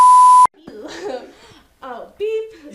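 A single sustained censorship bleep tone cuts in at the start, loud and steady for about half a second, followed by someone talking and giggling.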